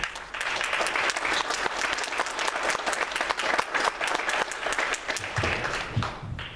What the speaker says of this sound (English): So I'd like to give him a round of applause as he comes to the podium.